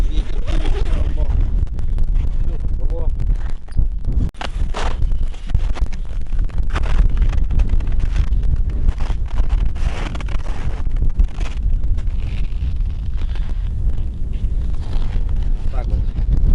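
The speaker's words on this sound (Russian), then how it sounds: "Сейчас ветер будет." Strong wind roars steadily outdoors around a winter fishing spot in the snow, buffeting the microphone with dense, rumbling gusts; voices are faintly mixed in.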